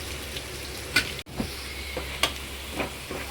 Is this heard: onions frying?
yes